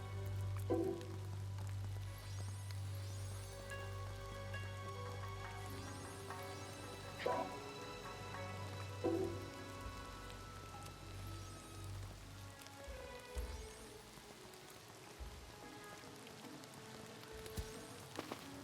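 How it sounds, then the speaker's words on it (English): Rain falling in the video game Craftopia, a continuous crackling patter on surfaces like light sizzling, steady for the whole stretch with a few brief sharper knocks and taps over it. "Oh, it's raining."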